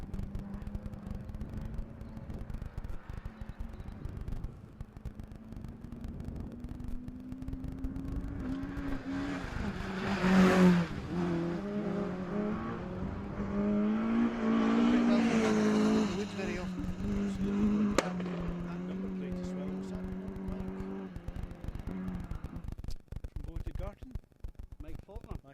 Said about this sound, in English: 206 Cup car.